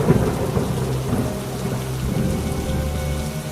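Heavy rain pours down steadily with rolling thunder in a dramatized storm scene, a loud, dense wash of rainfall rumbling low throughout, with no voices.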